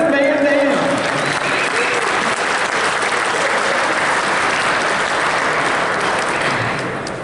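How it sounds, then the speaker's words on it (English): At a fishing show, a large audience claps loudly to welcome angler Kevin VanDam, a thick continuous wash of applause that starts with a voice over it and fades slightly toward the end. "let's give a big round of applause for Kevin VanDam"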